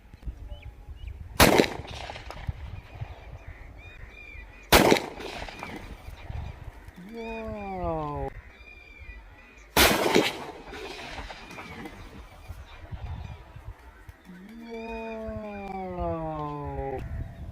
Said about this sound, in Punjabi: ਅਸੀਂ ਤੁਹਾਨੂੰ ਇਹਦੇ ਟੈਸਟ ਫਾਇਰ ਕਰਕੇ ਦਿਖਾਏ ਨੇ